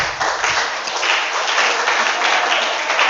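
A church congregation claps together in a dense, sustained round of applause that holds steady for a few seconds at close range, with no clear talk over it.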